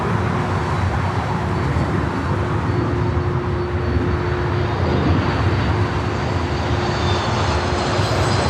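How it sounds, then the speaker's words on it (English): An Alaska Airlines jet arriving at Los Angeles International Airport, a steady loud engine roar with a sustained tonal whine, close and continuous throughout with no voices. "Go to the Alaska flight, our next arrival"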